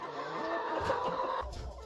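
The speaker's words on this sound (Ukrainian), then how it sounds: "Показав півничка, який там бідолага." A rooster clucks and murmurs nearby in a farmyard, a few soft uneven calls in a quiet setting with a low thump toward the end.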